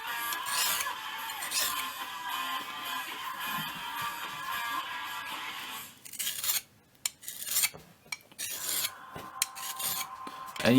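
A tanto-point knife blade scraped against a simple sharpening stone, with steady continuous rasping strokes for several seconds, then shorter separate strokes broken by brief pauses.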